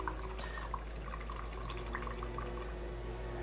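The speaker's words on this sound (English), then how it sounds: "take a quick break and rinse off the brush" A miniature-painting brush is rinsed in a small water pot, soft close splashing and dripping over a steady low hum, faint and continuous with no talking.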